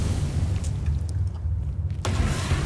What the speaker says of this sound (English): they've blown up the box now